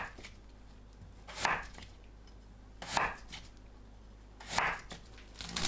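Korean radish (mu) chopped with a knife into 1 cm slices, three distinct knife strikes through the firm root onto a board, evenly spaced, close and clear over a quiet hum.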